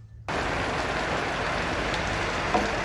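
Steady rain falls on surfaces outside a house, a dense hiss that starts abruptly and continues evenly, fairly close.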